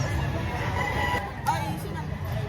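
Chickens and roosters crowd a busy weekend poultry market in Lipa, Batangas, clucking and crowing close by over steady crowd babble and people talking.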